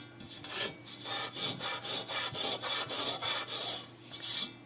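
A steel rackmount chassis is scrubbed to remove light surface rust, producing a close, loud rasping sound in a steady back-and-forth rhythm of about a dozen strokes with no talking.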